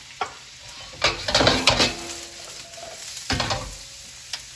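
Pork fried rice with broccoli stem is stirred in a pan over high heat, with short scraping, sizzling bursts close by and no one talking.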